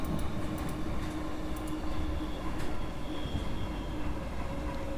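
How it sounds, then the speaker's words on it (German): A DB Intercity class 101 train passes in the Train Sim World 4 railway game, a continuous loud rumble and rattle of wheels on track with faint metallic squeals, steady throughout with no talk. "Da kommt noch ein Intercity vorbei, Baureihe 101."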